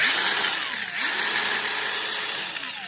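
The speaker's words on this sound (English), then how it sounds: "I think where the worm drive goes onto the other bit, I think it's sort of grinding a little bit" A Makita angle grinder runs steadily with a high, dense whine, its worm drive gear grinding slightly under the motor noise, close and continuous for the whole stretch with no talking.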